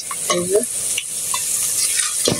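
Spices frying in a hot pan for a beef liver curry give a steady close sizzle, with a few stirring scrapes of a spoon against the pan.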